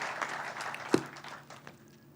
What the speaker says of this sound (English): Let's give a round of applause to the men and women of Western New York who will be building this incredible fortress.